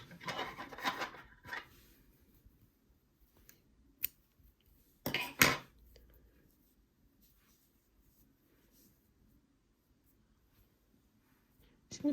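Scissors cut crochet yarn for a granny square. The snips are quiet and close: a cluster at the start, then a few isolated clips separated by long near-silent gaps.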